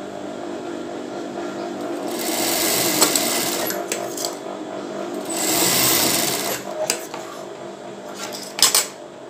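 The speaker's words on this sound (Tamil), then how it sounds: "தையல் போடலாம்." A sewing machine stitches a bra, its fast mechanical whirring rising and falling in a few bursts between quieter pauses, with small clicks and rattles of the needle and fabric handling.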